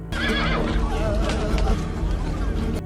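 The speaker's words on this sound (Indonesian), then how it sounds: "Terlihat Musika menunggangi kuda perangnya" A war horse neighs loudly and close, a rising-falling whinny over a thick, busy background of hoofbeats and crowd murmur, filling the whole stretch without a break.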